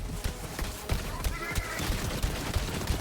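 Rapid gunfire from a fire-element Rowan's gun in Borderlands 3, a steady stream of punchy shots with hit sounds, under someone talking.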